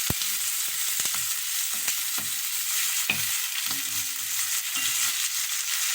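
Onions fry in a pot for Trinidadian cook-up rice with a steady hiss of sizzling oil, while a utensil stirs with occasional sharp knocks and scrapes against the pot.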